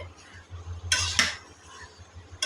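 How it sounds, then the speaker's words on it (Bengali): A spoon stirs a thick Bengali village-style curry of small mola and chanda fish in a pot, giving a couple of close metallic clanks and scrapes, then a lone knock, over a low steady hum. "মাঝে মধ্যে কষানো তরকারিটা কিছু নাড়তে হবে"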